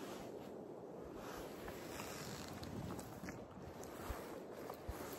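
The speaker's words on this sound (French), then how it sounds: "Petit peu de vent, des oiseaux," Wind rushes and buffets the microphone on a mountain pass descent in the Drôme, a steady, low, broad roar that stays faint overall, with no talking.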